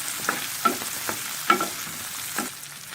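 Small pieces of brinjal fry in a pan with red chilies. The sizzle runs steadily while a spatula scrapes and stirs in several distinct strokes, close and clear, with no voices.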